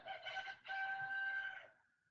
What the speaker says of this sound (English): I heard that rooster, and that's not a android. That's a real rooster.